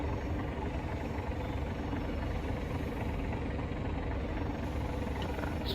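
Class 37 diesel locomotive throttling up on a steep uphill gradient in Train Simulator, a steady, loud, dense engine drone with continuous rumble and no talk.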